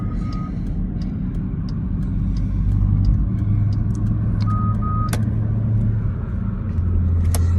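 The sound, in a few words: highway traffic, cars driving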